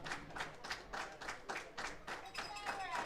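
Baseball crowd at an evening game between the Welland Jackfish and Barrie Baycats clapping in a steady rhythmic beat, mid-distance, with a faint voice underneath.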